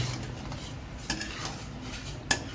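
Chicken being flipped and stirred in a pan gives a low frying sizzle beneath two sharp metallic clanks of a utensil against the pan, a few scrapes between them.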